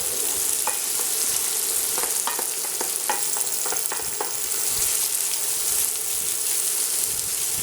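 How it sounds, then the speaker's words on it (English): Onions frying in olive oil for Greek imam bayildi, with a constant loud sizzle and a series of sharp spoon scrapes as they are stirred in the pan. "So we're going to cook this until the onions start to brown slightly."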